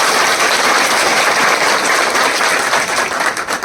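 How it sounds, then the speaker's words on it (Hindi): A crowd of police personnel at an annual district police inspection bursts into loud, dense applause, sustained close clapping that thins slightly near the end. "एक बार तालियां हो जाए इस बात पर"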